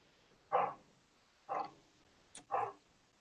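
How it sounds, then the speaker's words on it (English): A dog barks three times at roughly one-second intervals, moderately loud against a quiet background, with no other sound. "Somebody's got a barking dog."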